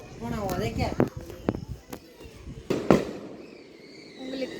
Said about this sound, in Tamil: எனக்கு தெரிஞ்சு ராக்கெட்ல சரத்தை கட்டி விடுறானுங்கன்னு நினைக்கிறேன்.